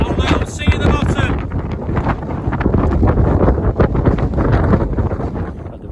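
Strong, wet wind buffets the microphone on an exposed Lake District fell top near Haystacks, a loud continuous roar with gusty surges throughout, a voice partly buried beneath it.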